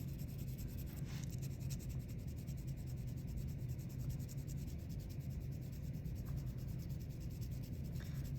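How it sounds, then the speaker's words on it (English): A pencil shades across paper while drawing a mustache, making a faint, steady, soft rubbing and scratching that runs continuously with no voices. "I'm going to go ahead and just shade right over this mustache area."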